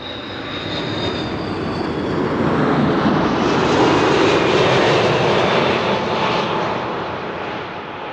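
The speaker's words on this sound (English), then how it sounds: "KLM Flight 696 arriving from Toronto in Canada" KLM Airbus A330-300 airliner arriving at Amsterdam Schiphol, a loud close engine roar rising steadily, holding at its peak, then tapering as it passes.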